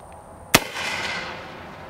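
A Spikes Tactical 37mm Havoc launcher fires a burning projectile outdoors near a tree line, giving one sharp, loud report followed by a hissing, crackling burn that slowly fades.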